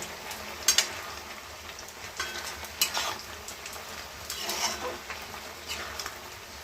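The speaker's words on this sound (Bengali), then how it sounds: "এইদিকে বড়া হচ্ছে আর এইদিকে পোস্তটা হচ্ছে, আলু পোস্ত।" Bora fritters sizzling in hot oil beside aloo posto cooking in a pan, a steady soft crackle broken by a few sharp clinks and scrapes of a spoon or spatula against the cookware.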